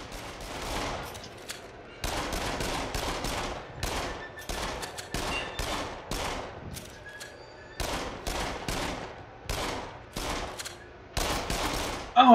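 Repeated bursts of gunfire in Until Dawn: Rush of Blood come in clusters of rapid shots separated by short silences, loud and close, carrying on in stop-start volleys from start to finish.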